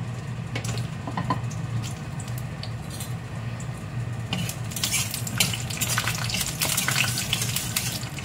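Peanuts frying in hot mustard oil make a continuous crackling sizzle that grows busier and louder partway through, with occasional sharp pops and spatters.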